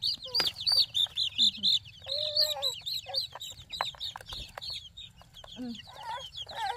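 Chickens cluck and chirp in a steady run of short calls, fairly close, with a low background rumble and brief chatter.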